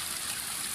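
Spring water pours steadily at a village drinking spot, a close, continuous rushing and splashing flow that fills the brief moment with no voices.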